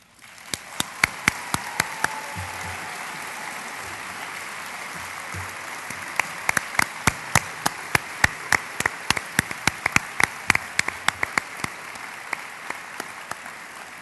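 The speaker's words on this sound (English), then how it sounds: "applause" A staff gathering applauds its managers of the year with sparse, distinct claps near the microphone over a soft crowd wash, thinning out toward the end.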